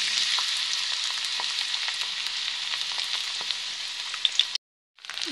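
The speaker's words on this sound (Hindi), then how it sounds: "अब हम इसमें गोभी फ्राई कर लेंगे" Cauliflower pieces fry in hot oil for a mixed vegetable dish, giving a dense, steady crackling sizzle with small pops, close and loud, then cutting out abruptly near the end.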